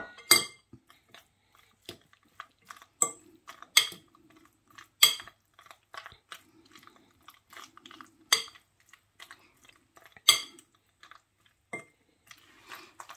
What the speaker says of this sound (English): I'm also going to add my tuna.